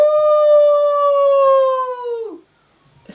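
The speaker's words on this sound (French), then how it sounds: "C'est le chant des loups." A single wolf howl from a pack gathered on a mountaintop rings out loud and close, holding one long sustained tone before sliding down and fading into silence.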